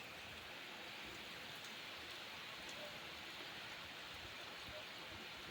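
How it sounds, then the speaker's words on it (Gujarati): Steady rain falls over cotton fields and a farm well in rural Gujarat during a full-moon downpour, an even, soft hiss with scattered drop ticks, constant and fairly faint throughout. "છાંટા પડે છે ચાલુ છે મિત્રો"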